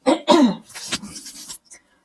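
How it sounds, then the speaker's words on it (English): A few harsh, rasping throat-clearing coughs up close, ending in a quick short grunt. "So I'm just going to clear my throat again."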